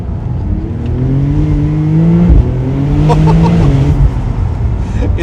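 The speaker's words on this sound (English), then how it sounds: "It's so fast that it really settles in all the weight in the back when you go full on the throttle" Porsche 992 Turbo with all-wheel drive pulling hard at full throttle out of a hairpin on a mountain road, a loud, close engine note rising steadily in pitch, then a quick upshift and another climbing surge.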